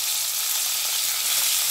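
Green chillies fry in hot oil for a cabbage chutney, giving a steady, even sizzle that hisses continuously and close for the whole short stretch.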